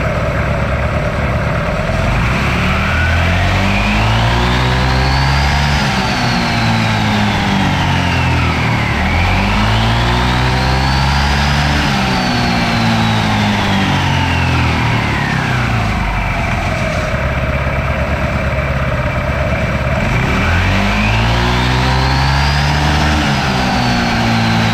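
Yamaha NMAX scooter engine after a CVT pulley upgrade, revving up and down in three long sweeps, each rising to a high whine and falling back, loud and close with no talk.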